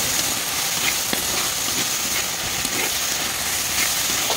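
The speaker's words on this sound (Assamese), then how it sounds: "মই এয়া জলকীয়া আদা নহৰু মিশ্ৰণ কৰি আছোঁ" Chilli, ginger and garlic fry in a pan, giving a loud, dense, continuous sizzling hiss with occasional small crackles throughout.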